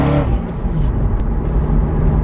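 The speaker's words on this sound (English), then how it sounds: "when I accelerate, of course, you got to hear that sweet sound of the V8" A Corvette V8 accelerates with a loud, dense, steady engine roar, close up and continuous for a couple of seconds with no voices.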